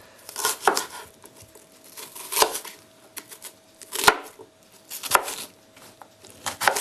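A knife chops onions on a board in sharp, uneven bursts of close, crisp cuts separated by short pauses, with no voices.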